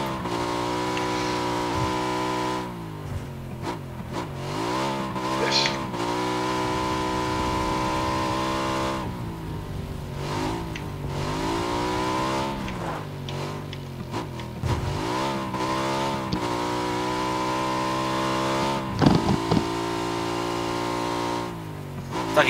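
Motorcycle engine in the video game PUBG Battlegrounds revving and shifting through gears repeatedly, rising and falling in pitch over a steady drone, close and loud.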